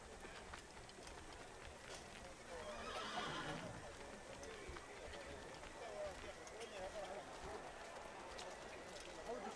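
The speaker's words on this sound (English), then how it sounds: "Why is the horse following me?" Horse in the Assassin's Creed video game, faint neighing and hoofbeats blended into a quiet game soundscape with a brief louder swell midway, under a player talking.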